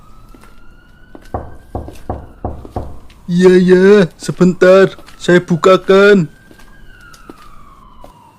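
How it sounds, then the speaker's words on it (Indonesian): In an animated horror film set at night, a steady, thin siren tone drones in the background, with knocking on a door and a voice speaking over it. "Itu kok ada suara sirine ambulans."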